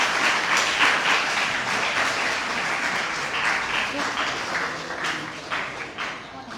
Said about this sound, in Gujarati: તો એમને આપણે ખૂબ તાળીઓથી વધાવી લઈએ.